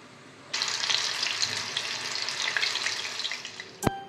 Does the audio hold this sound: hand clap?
no